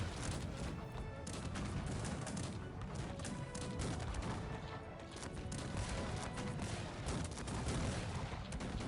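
Cannon artillery in Cossacks 3 fires in a dense, continuous barrage of booms and crackling shots, dense and loud throughout with no clear talk over it.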